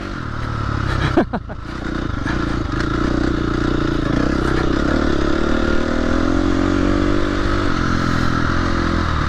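A motorcycle climbs a dirt trail on China Pass, its engine droning steadily under occasional clatter and scraping from the rough ground.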